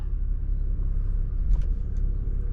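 A Hyundai Kona electric car rolls away with a steady low rumble and faint road noise, smooth and quiet with no engine roar, heard from inside.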